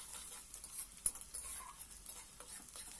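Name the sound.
stirring frying onions with a spatula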